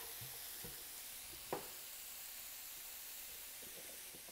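Continuous sizzling hiss of meat frying and browning in a pan, with an occasional scrape or stir, no voices.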